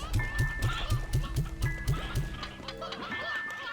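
Rapid, regular clucking from several chickens in the video game Slime Rancher 2, a steady series of short calls over a tonal game-like hum, fading into softer squawks.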